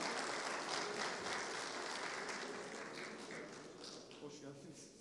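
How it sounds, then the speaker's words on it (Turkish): Sustained applause from an audience at a press conference for a Turkish oil wrestling league, a dense wash of clapping that slowly fades while a voice speaks over it. "Alkış devam ediyor başkanım"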